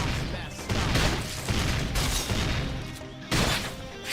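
Gunfire in Xenoblade Chronicles X during a battle: loud, dense bursts of shots and impacts come in waves, layered over the game's music and effects.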